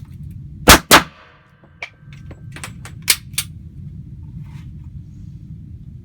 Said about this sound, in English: I'm just shooting the lower A zone of a USPSA target right now